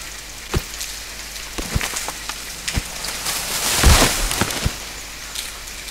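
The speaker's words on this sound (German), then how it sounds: "Oh, jetzt regnet das auch noch." Rain falls in the survival video game The Forest, a steady wash of patter on the ground with a few sharper drop impacts scattered through, swelling briefly near the middle and heard alone without talk.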